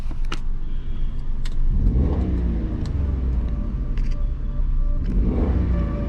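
A cold car engine idles while warming up, a steady close rumble with two rising rev swells partway through, no talking over it.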